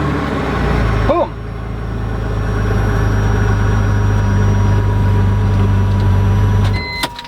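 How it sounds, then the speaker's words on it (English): A BMW E46 3 Series engine test-starts after a fuel pump replacement: a short crank catches, then a loud, close, steady idle rumbles on for several seconds before cutting off sharply. "Now we're just going to prime the system, make sure we've got good fuel pressure, and we'll give it a test start."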